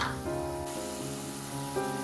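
Cucumber pieces and green chilies sizzle steadily in hot oil in a pan, a close, continuous frying hiss with no voices.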